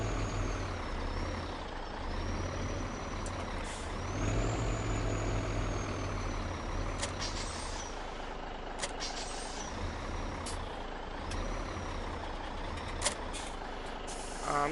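A road train truck with air brakes in the Farming Simulator game, with a steady rumbling engine, hissing air brake bursts and a whining drone that rises and falls, plus occasional clicks.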